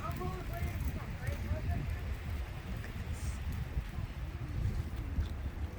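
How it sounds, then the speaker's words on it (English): Gusty wind buffeting the microphone outdoors, a low rumbling roar that rises and falls throughout, with a voice speaking briefly early on. "It's so windy."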